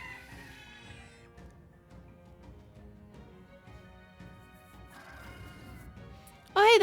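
A strange bird creature in the video game Metaphor: ReFantazio calls as it draws near, with clucking, fowl-like cries over a steady game backdrop and a sudden loud, shrill squawk at the very end.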